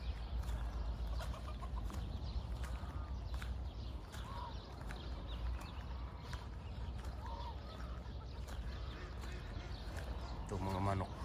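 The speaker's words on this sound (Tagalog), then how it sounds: "Ito mga manok native." Native chickens cluck and squawk throughout amid a busy farmyard hubbub, with a few louder calls standing out near the end.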